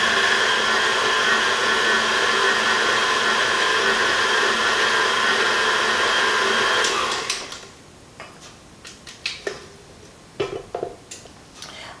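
An electric mixer whirs steadily through chocolate chip cookie dough for several seconds, then cuts off, followed by scattered clinks and scrapes of utensils.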